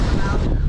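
Strong wind buffets a microphone outdoors during an Alaska winter storm, a loud continuous roaring rush that fills the short moment with no pause.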